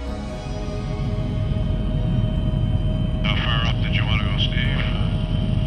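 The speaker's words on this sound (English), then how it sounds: "We fly these systems via helicopter." Helicopter flying to Arctic char sample sites, a loud steady rotor and engine drone throughout, with a voice talking over it in the second half.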